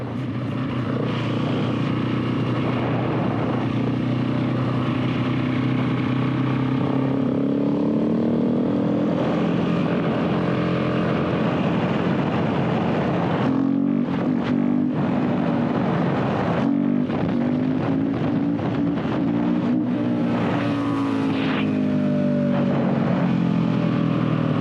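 KTM 690 single-cylinder motorcycle engine pulling up through the gears, a steady loud drone whose pitch climbs and drops with each shift, ending in a brief break and renewed acceleration.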